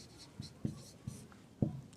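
Pen writing on paper during a maths lesson: faint, quiet scratching with four soft stroke taps spaced unevenly over two seconds, without talk.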